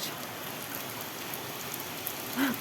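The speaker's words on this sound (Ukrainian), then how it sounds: "Знову падає дощ." Rain falls steadily outdoors as a soft, even hiss of drops spattering on surfaces, with a brief louder patter near the end.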